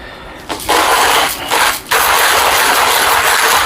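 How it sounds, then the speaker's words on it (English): A manual coffee grinder crushing beans, loud steady mechanical grinding and ratcheting close up, broken by two brief pauses before continuing without talk. "One of the best manual grinders on the market, if not the best."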